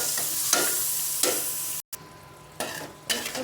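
Shrimp fry and are stirred with chili powder and spices in a pan, a close, steady sizzle broken by several spatula scrapes and a brief dropout partway through.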